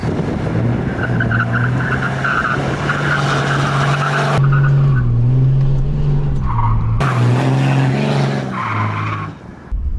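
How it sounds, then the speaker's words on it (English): A Cummins diesel truck drifting on a paved turn: loud, sustained tire squeal wavering in pitch over a rumbling engine, with brief breaks as the skid shifts, lasting about ten seconds with no talking. "We're gonna see if we can drift it, fellas."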